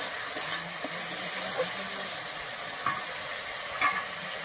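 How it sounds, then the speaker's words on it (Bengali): A beetroot and carrot curry spice paste with sugar is stirred in a hot pan, frying with a steady, close sizzle and occasional scraping of the spoon. "আমি চিনি দিয়ে আবার খুব ভালোভাবে এখানে মিশিয়ে নেব।"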